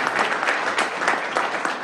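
Audience at a city council meeting applauding, a steady patter of clapping from a modest crowd in an indoor chamber, continuous and fairly close, with no voices over it.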